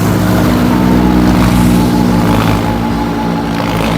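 Motorcycles escorting an under-23 men's criterium bicycle race in Tagaytay drone steadily and loudly close by, their engines holding a constant hum with slight swells for a few seconds.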